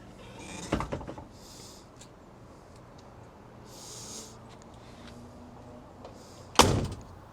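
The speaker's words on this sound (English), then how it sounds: "Doors close nicely." Doors of a 1950 Ford Custom Deluxe Convertible shut with solid thunks, one near the start and a louder one near the end, separated by quiet ambient background.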